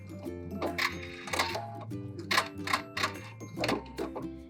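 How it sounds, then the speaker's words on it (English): A sewing machine stitches trim onto the edge of fabric in quick mechanical bursts of needle clatter with short pauses between runs, close and clear. "I'm going to stitch right down my trim, right on the very, very edge"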